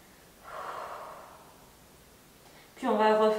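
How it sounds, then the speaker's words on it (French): Slow breathing during a yoga back stretch for the spine: a soft drawn breath, a long quiet pause, then a brief tonal, voice-like sound at the end. "Quelques respirations."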